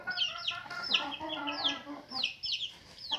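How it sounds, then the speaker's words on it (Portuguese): Young chicks, already fairly large, chirp with a hen around them on a farm. High, repeated peeps and clucks come in overlapping bursts from close by, with no talking. "Os pintinhos, ó."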